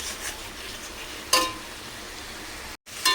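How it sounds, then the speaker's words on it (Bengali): Gravy for a Bengali fried fish curry simmers and sizzles in a pan with a soft, steady hiss, broken by brief scraping stirs of a spoon. "আর এদিকে গ্রেভিটা বানাচ্ছি"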